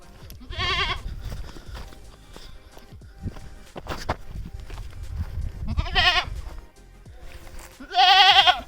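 Goats bleat on a farm path through a village near Igatpuri, giving three separate wavering calls, close and fairly loud, amid shuffling footsteps and outdoor ambience.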